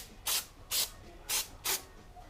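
Cleaner sprayed onto the front brake rotor of a 2014 Honda Accord sedan during a pad and rotor job: four short, loud aerosol hisses in an even rhythm, each about a quarter second, close to the mic with no talk.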